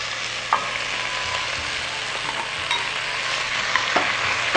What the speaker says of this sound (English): And I'm going to add in our onions.